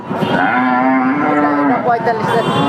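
A cow at a market for lean, bony cattle lets out one long, loud, steady moo close by, lasting over a second and trailing off, with no talk over it.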